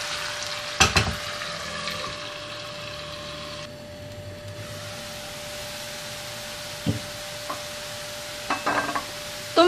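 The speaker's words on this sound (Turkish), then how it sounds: "Kapağını kapatıp domateslerimizi pişmesini sağlıyorum." Tomato sauce cooking in a covered pan, giving a soft steady sizzle and hiss. A few clinks and clatters of the lid or utensils stand out here and there, with no talk.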